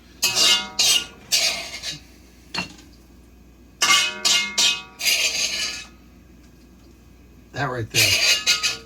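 A metal spoon scrapes and clanks against a cast iron wok while stirring stuffing, several loud bursts of harsh grinding with short pauses between, and a brief remark spoken partway through.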